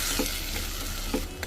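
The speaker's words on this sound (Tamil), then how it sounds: "லைட்டாக கலந்து விட்டுக்கோங்க." Tomato and cashew masala for paneer butter masala is stirred in a pan, giving a soft continuous sizzle with two short scraping strokes of a spoon against the pan.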